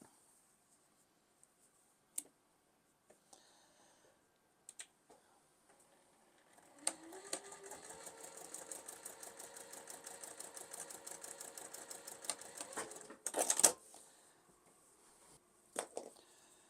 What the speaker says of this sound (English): I'm going to go ahead and pinch this together and take it to the machine and stitch it.